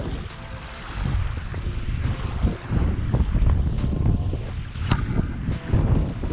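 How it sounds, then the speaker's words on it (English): Steady gusty wind buffeting the microphone beside a reservoir during fishing, loud and continuous with lapping water underneath and no talking. "The wind died down a tiny bit"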